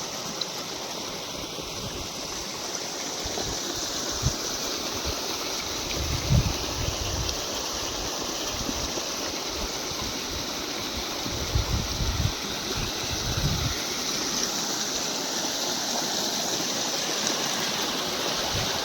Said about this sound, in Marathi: किती स्पीडनं पाणी चालू चाललं आहे